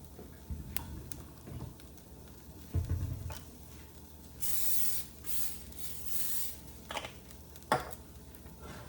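A cooking spray can hisses in a few short bursts amid quiet kitchen clatter and ticking.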